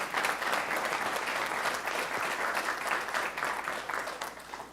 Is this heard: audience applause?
yes